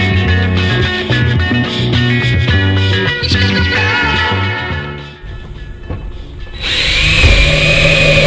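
A power drill bores a hole into reclaimed pallet wood during a school bus wall build, a steady whirring grind that runs for several seconds, pauses, then rises again in a higher, strained pitch.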